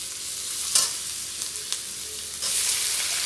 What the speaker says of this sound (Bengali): এখন আমি রসুন বাটাটা দিয়ে দিয়েছি, এখন ভালো করে ভেজে নেব।